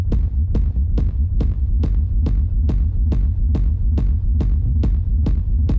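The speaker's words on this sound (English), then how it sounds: "I'm making a rumble by just putting a bunch of low frequency sine waves together" A deep synthetic rumble built from layered low-frequency sine waves, for a techno kick, throbs in steady, evenly spaced pulses, loud and continuous, with no voices.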